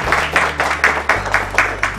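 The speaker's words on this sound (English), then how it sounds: "Give a round of applause." Audience claps for a volunteer at a science centre presentation, the clapping falling into an even rhythmic beat of about four claps a second over a low steady hum.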